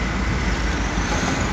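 Steady roar of a car rushing along a road near a Kemer beach town in Turkey, a dense continuous wash of tyre and engine noise with no break and no talk.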